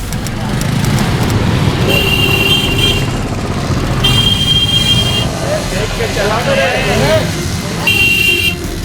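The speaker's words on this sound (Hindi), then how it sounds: "इतना देर से हॉर्न मारे, सुनाई नहीं दे रहा तुमको?" Car horns honk in several short blasts amid heavy road traffic, with a voice speaking over the busy street noise.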